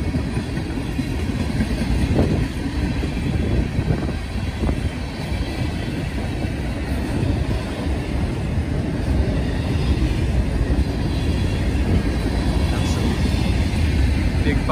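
Freight train of long 89-foot boxcars rolling past, a steady loud rumble of wheels and cars throughout with a few faint clanks, and some voice mixed in.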